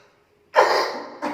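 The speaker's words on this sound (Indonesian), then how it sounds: "Maaf ya, agak batuk." A single sharp cough bursts out after a moment of near silence, followed by a shorter second cough, both close and fairly loud.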